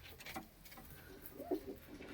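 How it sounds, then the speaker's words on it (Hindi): A female Malwai pigeon coos a few soft, low calls against faint background noise, with a slightly louder coo near the end. "बिल्कुल मलवाई कबूतरी है"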